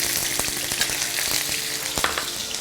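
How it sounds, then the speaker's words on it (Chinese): Ginger, garlic and shallots stir-fried in a wok with rapeseed oil and lard, giving a loud, continuous close-up sizzle broken by a few soft taps of the spatula. "下入我们的姜、蒜还有干葱"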